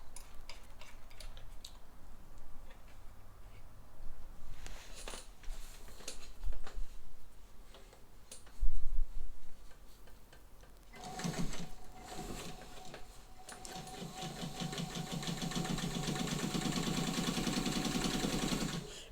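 White Model 565 sewing machine running the widest zigzag stitch, a soft mechanical ticking that picks up into a louder, steady whirring hum in the later part, with no talk.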